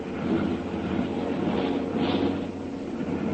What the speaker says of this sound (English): One of the motors there is starting to miss.